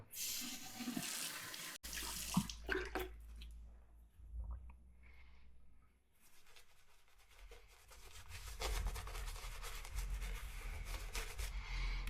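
Running tap water rinses a straight razor at a bathroom sink, splashing and gurgling in uneven bursts with quieter gaps and squishy handling sounds between, fairly faint and close.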